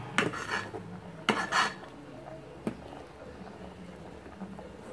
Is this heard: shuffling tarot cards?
no